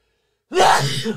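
A single sharp human sneeze bursts out of silence, close and loud, with a short breathy tail.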